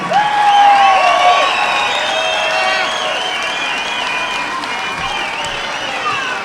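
Loud boxing-match crowd noise with applause and cheering filling the whole stretch, a dense steady wash of clapping with whistles and shouts rising over it.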